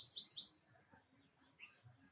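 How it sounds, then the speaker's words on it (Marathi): Birds chirp at sunrise beside the Dhom dam water at a nature tent stay: a quick run of bright, high tweets up close, then a single fainter call after a short pause, with no talk. "पक्षी पण जागे झालेत"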